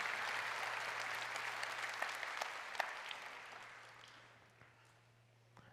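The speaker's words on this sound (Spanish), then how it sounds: "Vamos a darle un fuerte aplauso al Señor" A church congregation applauds in a dense, steady wash of clapping that holds for several seconds, then gradually thins and fades toward the end, with a faint low hum underneath and no voices.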